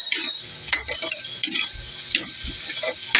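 A utensil clinks and scrapes against a pan while pakbet vegetables and chicken are stirred with soy sauce, giving irregular soft knocks and taps under a steady hiss.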